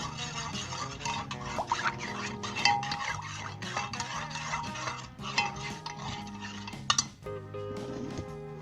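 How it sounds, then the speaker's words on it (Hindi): A spoon stirs custard into chilled milk in a pot on medium-low heat for a mango custard, with steady scraping and clinking against the metal over background music. "मुसलसल हिलाते हुए इसे मिक्स कर लें।"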